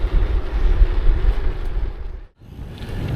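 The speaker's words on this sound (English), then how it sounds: "It's very windy now." Strong, steady wind roars against the microphone of a cyclist riding old railway lines and quiet lanes in Norfolk, a loud continuous rush with one brief drop near the end before it picks up again.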